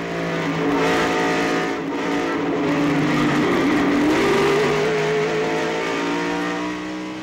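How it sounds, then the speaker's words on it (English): Rusty Wallace's NASCAR stock car spinning at Bristol Motor Speedway in 1995, heard from inside the car: a loud, continuous engine roar whose pitch dips and then climbs again as the car slides around. "From the in-car, look and listen to Rusty Wallace's spin."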